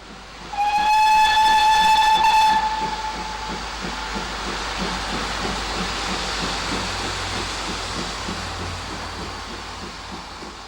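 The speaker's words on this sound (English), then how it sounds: "Well might she toot cheerfully with the insurance of a diesel locomotive giving her a good shove up the rear." Steam locomotive Bradley Manor sounds a loud, sustained whistle for about two seconds, then chuffs in a fast, steady rhythm as it hauls a passenger express, pushed from the rear by a diesel locomotive.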